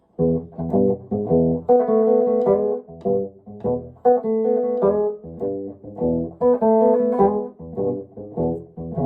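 A melodic early electric blues guitar line plays alone, with repeated phrases of bent and sustained notes over a steady rhythmic pattern, fairly loud and close.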